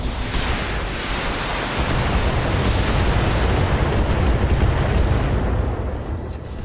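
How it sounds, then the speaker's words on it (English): An artillery bombardment striking a Jaeger mech in BattleTech, heard as a continuous heavy roar of blasts and rumbling that stays loud and dense throughout, with no voices. "And then we'll bombard this Jaeger mech."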